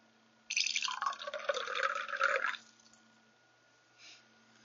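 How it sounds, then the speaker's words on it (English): A paintbrush swished and rinsed in a water cup during skin painting, a close, continuous two-second gurgling slosh of liquid that stops abruptly, followed by a faint brief drip. "now we've used our green, so we need to wash out this brush"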